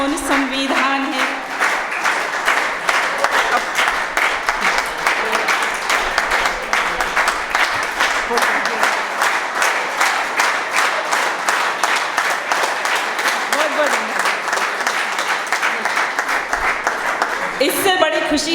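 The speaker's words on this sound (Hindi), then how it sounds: "इससे बड़ी खुशी एक कवि हृदय के लिए क्या हो सकती है, उसे तालियों का संग बिना कहे मिल जाए।" An audience claps after a Hindi poetry recitation, sustained, dense applause that keeps going for many seconds, with voices briefly heard at the start and end.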